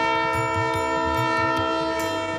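Train whistle from an Indian Railways train running a Ramayana pilgrimage circuit, a sustained loud harmonic tone held steadily for the whole clip over a rhythmic low clatter of wheels on rails.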